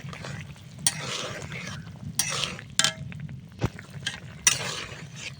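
Cumin and garlic paste being stirred and mixed into a simmering milk taro and tilapia curry, with several scraping spoon strokes against the pot over a low steady sizzle, no talking.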